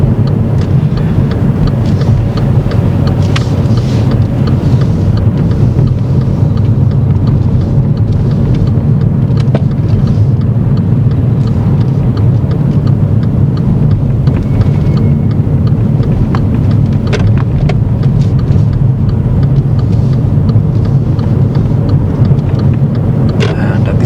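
Car engine and road noise held at a steady, loud drone while a car drives a U-turn around a roundabout, with a voice speaking over the continuous rumble.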